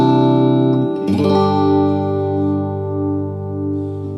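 A clean electric guitar runs through a Mooer GE250 multi-effects preset with compression and reverb. A chord rings out, then a second chord is struck and sustains with a smooth, reverberant tail.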